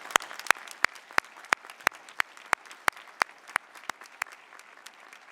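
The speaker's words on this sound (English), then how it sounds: "So please join me giving them a round of applause." Applause at a nursing school commencement ceremony honoring graduates' families, heard as sparse, sharp individual claps in a steady rhythm, close and fairly faint rather than a full crowd roar.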